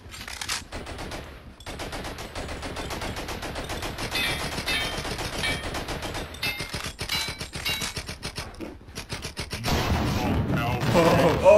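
Rapid, sustained automatic gunfire from the Blood & Bacon video game, a dense stream of loud close shots that keeps going and swells louder near the end, with players talking over it.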